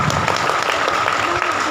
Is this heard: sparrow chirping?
no